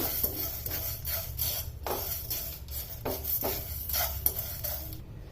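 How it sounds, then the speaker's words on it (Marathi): Pickle spices with half a teaspoon of black pepper dry-roasted in a pan, heard as steady, close scraping and stirring strokes with light metallic clinks and rattling, no voices. "हे आहेत अर्धा टीस्पून काळी मिरी या मसाल्याला आता आपण थोडं सुगंध येईपर्यंत भाजून घेऊ"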